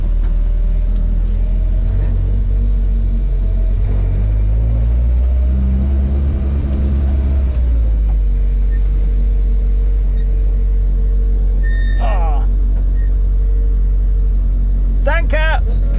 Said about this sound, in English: We're actually going to drive Richard's Alfa on the Nordschleife